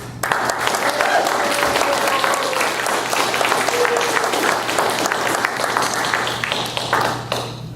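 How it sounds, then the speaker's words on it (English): Sustained applause from a debate audience, steady clapping throughout that fades slightly at the very end. "Can I have some applause, please?"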